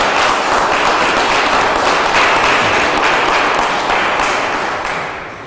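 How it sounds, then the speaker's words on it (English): An audience at a public event led by Arkansas's governor applauds the donors, dense loud clapping sustained throughout and tapering off at the end. "Please give all of those generous lead donors a round of applause."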